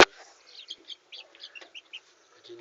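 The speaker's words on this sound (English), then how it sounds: "We also have some chicken here." Chickens, including roosters, cluck and chirp on a rabbit and chicken farm in a series of short, scattered calls, fairly close and alone without talk.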